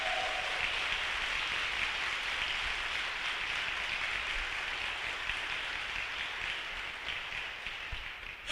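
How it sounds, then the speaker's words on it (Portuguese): A church congregation applauds in a dense, sustained wash of clapping that holds steady throughout and fades slightly toward the end. "Pode aplaudir"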